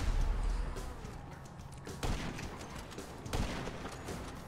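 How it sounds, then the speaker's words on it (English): Gunfire in GTA 5 Online as a car's tire gets shot out: a dense rattle of shots and thumps under game noise, with sharper cracks landing about two seconds and three seconds in. "Somebody shot my tire out"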